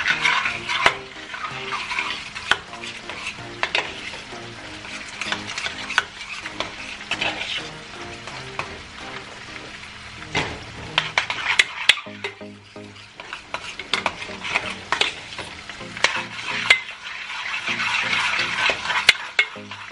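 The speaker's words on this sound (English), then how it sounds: "I'm going to give this a good stir" Heavy whipping cream being stirred into a pot of sweet potato grits, with a steady wet churning and soft scraping dotted by light clinks of utensil on pot over about twenty seconds, close and alone.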